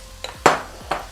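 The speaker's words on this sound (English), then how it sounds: "So now I'm going to stir this and toast this rice in the pan." A metal spoon scrapes and clinks against a pan while rice is stirred and toasted for Nigerian-style fried rice, giving three short strokes that each leave a brief ringing tail.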